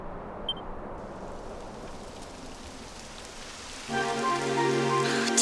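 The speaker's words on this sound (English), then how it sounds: "It would have to go and start raining, wouldn't it?" Rain begins falling in the fantasy role-playing game Dragon Quest XI, a steady hiss of drops on the ground joined partway through by a louder, brighter patter with faint tonal game sounds over it.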